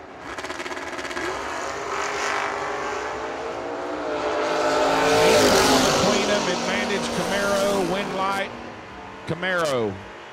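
A Camaro and a Blazer run a drag race at the Ultimate 64 event, their engines droning and rising in the distance under a steady announcer's commentary, with a sharp high whine near the end.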